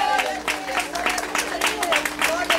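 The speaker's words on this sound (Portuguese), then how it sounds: "Palmas bem forte," A congregation at an outdoor evangelical church service claps rhythmically in a steady, lively beat, with singing or voices mixed in over the clapping.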